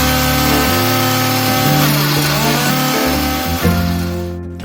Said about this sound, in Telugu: వైట్ బ్రెడ్ పీసెస్ని చిన్న చిన్న ముక్కలుగా కట్ చేసుకొని ఒక గ్రైండింగ్ జార్లో వేసుకొని పౌడర్ లాగా చేసుకోవాలి.